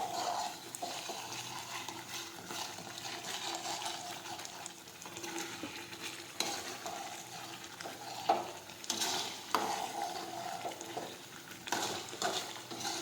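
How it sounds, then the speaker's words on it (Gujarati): A spoon stirs masala through okra gravy in a pan, scraping and clinking against the metal over a soft sizzle, with irregular close strokes and no talk. "હવે થોડી વાર આમ ફેરવતા રહીશું"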